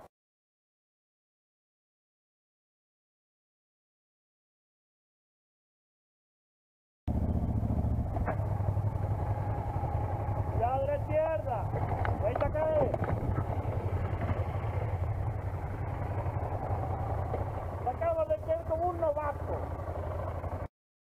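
A trail motorcycle rides a dirt track during a Maxitrail riding course, its engine droning steadily with rising and falling revs over several seconds after a silent start, fairly close and continuous.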